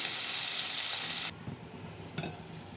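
Spinach and tomato curry in a pan gives a loud, steady sizzle that cuts off sharply as a lid goes on, leaving a muffled low bubbling with a couple of soft knocks.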